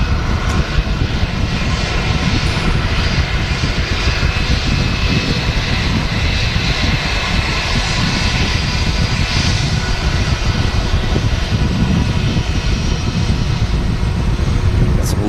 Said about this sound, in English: There's a Scandinavian A320 taxiing in.